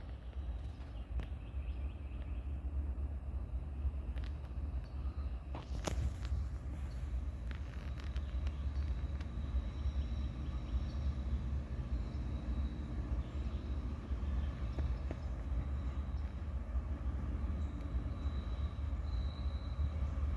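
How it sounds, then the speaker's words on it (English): A coal train rolls past on nearby railroad tracks after coming around a curve, a steady low rumble with intermittent high wheel squeal, close and continuous throughout. "we got a coal train coming around the corner"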